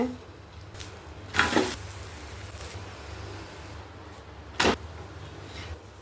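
A wheat-and-onion roti sizzles on a hot pan with a constant soft frying hiss. Two louder bursts of scraping or flipping noise break through it, one early and one later.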